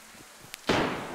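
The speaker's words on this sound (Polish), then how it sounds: "Kuźwa, ktoś strzela koło mnie." A single sharp gunshot cracks nearby in DayZ, followed by a short noisy echo that fades out.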